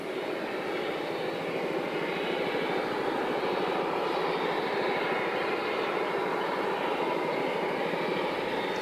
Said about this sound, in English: Chinook's coming in. I can hear the wonka, but I can't see it.